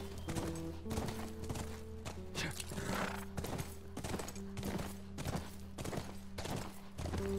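Horse in The Last of Us video game: steady hoofbeats in an even trotting rhythm under a low sustained tone, with a faint whinny and no talk.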